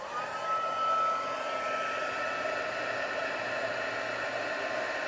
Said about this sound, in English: It's going to take a minute here for my heat tool to warm up, and then it should start embossing pretty quickly here.